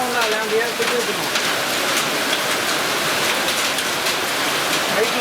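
Steady rain falls during a downpour at a temple festival in Gudur, a dense, constant hiss that stays loud and even throughout, with voices murmuring faintly underneath.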